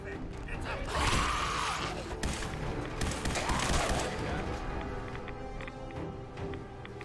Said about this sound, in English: Can you stop shooting, please? He's dead. Please stop shooting.